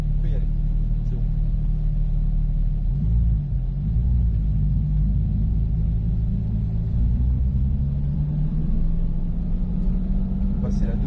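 A Porsche GT4 RS on the Mettet circuit sets off in first gear with a deep, steady engine rumble whose pitch climbs slowly as it pulls away, loud and continuous throughout.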